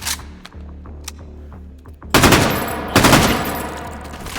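Gunfire erupts in the H3VR virtual reality shooter with night vision goggles on: a few sharp single shots, then two loud bursts of rapid fire at close range against a droning background.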